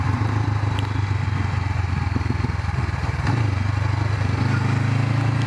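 A Honda CB500X motorcycle engine running steadily while riding, a loud continuous low drone with a brief dip in level around the middle, heard alone without talk.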